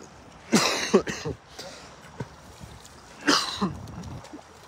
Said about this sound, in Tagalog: may ubo po yung ating shoutcaster ngayon kasi medyo malamig